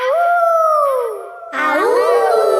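Cartoon characters in a children's animated show imitate a wolf howling at the moon, two drawn-out rising and falling voiced howls in sequence, loud and close, with no background noise.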